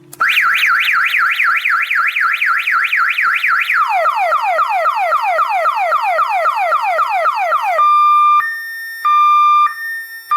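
An electronic alarm siren driven by a single-thyristor circuit wails loudly, first a rapid rising-falling warble, then a faster downward-sweeping whoop, ending in steady two-tone beeps that cut on and off.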